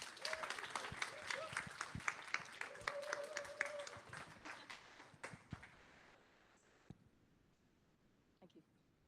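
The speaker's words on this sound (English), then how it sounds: "So a big round of applause," An audience at the WiDS Dublin conference breaks into applause that is fairly quiet in the room, with a few voices carrying over the clapping before it thins out to scattered claps.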